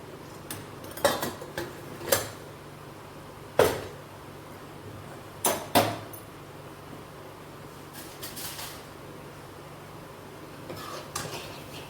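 Roasted spice mix tipped into a cooking pot in a Punjabi village kitchen, heard as a few sharp clinks and scrapes of a spoon against metal spread across a quiet room, without speech.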